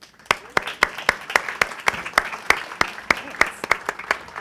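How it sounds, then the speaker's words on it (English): Claps ring out in a steady, evenly spaced rhythm for a speaker being welcomed onstage at The Late Afternoon Show event, Layers 2016, loud and close with a faint crowd murmur beneath. "Please give a round of applause to Lia Napolitano."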